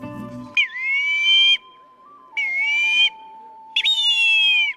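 Whistles blown by street vendors in Mexico City during the Day of the Dead: three loud, shrill rising-then-falling blasts, close by, with a faint steady tone underneath and no talk.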